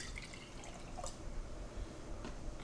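Orange juice pours into a barbecue sauce bottle with a steady liquid trickle and a few small splashes and drips, close and continuous over a low background rumble, no voices.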